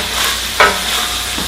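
A pound of ground beef frying in a skillet, with a steady soft sizzle and a brief scraping stir partway through, close and alone.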